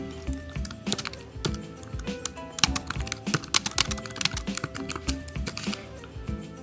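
Fast, irregular key clicks come from someone typing a message on a computer keyboard, close and fairly quiet, with bursts of keystrokes and no talking.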